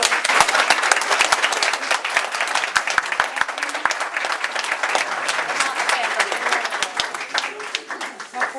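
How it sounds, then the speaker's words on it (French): Enthusiastic applause from a wedding crowd, dense continuous clapping that holds steady for several seconds. "Et on peut applaudir."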